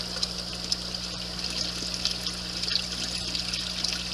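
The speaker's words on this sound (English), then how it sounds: "So very little splash, hardly any at all. It's still getting some good aeration out of the water there." Water drains steadily into a mini aquaponics tank through a no-splash drain pipe, a soft continuous trickle and gurgle with a low pump hum beneath and faint drips, close and quiet.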